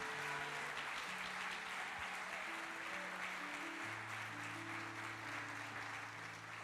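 A church congregation applauds during an evening Sunday sermon, a soft, dense, even wash of clapping heard at a distance, with sustained organ or keyboard tones running beneath it.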